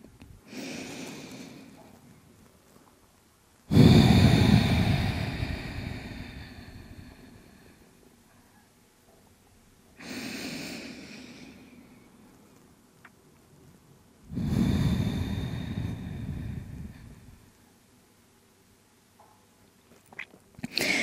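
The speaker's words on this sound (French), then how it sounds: "prenez des longues respirations" Long, deep, slow breaths during a yoga session: four drawn-out breathing cycles with rushing airflow, close and fairly quiet, separated by stretches of near silence.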